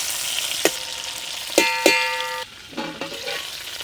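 Masala-coated brinjals fry in a pan and are turned over, with a soft sizzle under a few sharp metallic clinks and knocks from the spoon against the pan, close by.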